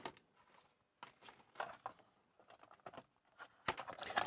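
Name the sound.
typing on ZX81 computer keyboard to test it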